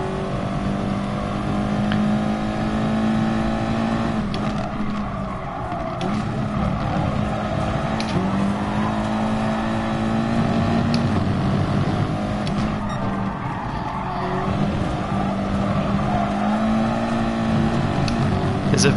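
Front-wheel-drive race car engine in GT Sport, a steady droning whine that rises and falls through the lap, continuous and fairly loud, with faint talk underneath.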